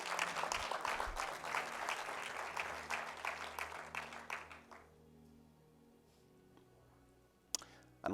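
A church congregation applauds during a sermon, with steady, brisk clapping that lasts several seconds before fading into a quiet room, followed by a single sharp knock.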